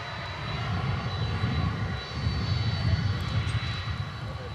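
A Lufthansa Boeing 747-8 on short final, its engines a low, steady, moderately distant drone that swells and pulses slightly over a few seconds, with no voices.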